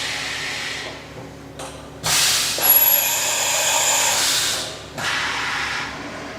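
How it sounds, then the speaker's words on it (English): Automatic tool change on a 2016 Leadwell MCV-1300 vertical machining centre: a steady mechanical hiss and whir, with sharp bursts of pneumatic air blast and clunks as the changer swaps tools, fairly close and without talk. "we're going to do a tool change."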